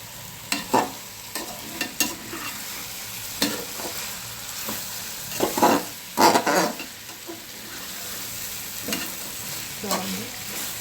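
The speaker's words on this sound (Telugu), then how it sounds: "ఇది బాగా ఫ్రై అవ్వాలి" Stuffed brinjal fries in oil with garlic and chili powder, a steady close sizzle broken by intermittent scraping stirs of a spoon against the pan.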